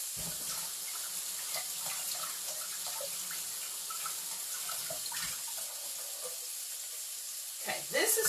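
Tap water runs steadily while carrots and asparagus are rinsed in a kitchen sink, a continuous hiss close by that cuts off near the end, with no talking.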